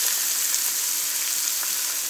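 Onions dropped into hot oil in a pot crackle with a loud, steady, dense sizzle heard up close and alone.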